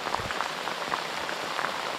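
Rain from a summer downpour on the River Trent, a steady, dense hiss of drops hitting surfaces close by, with no talk.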